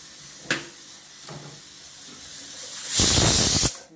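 A pressure cooker cooking beetroot lets off a loud hissing whistle of escaping steam near the end, after a couple of brief sputtering puffs, up close in a kitchen.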